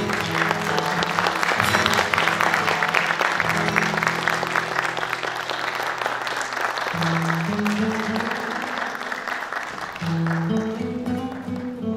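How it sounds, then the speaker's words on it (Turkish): Audience applause fills a memorial concert night as musicians come on stage, steady dense clapping throughout with sustained instrument tones and tuning notes sounding beneath it. "Alkışlarımızla."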